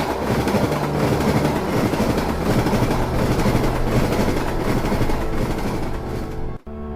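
A train rumbles loudly along the rails, with a continuous heavy roar and rhythmic clattering of wheels, close by, ending with an abrupt cut.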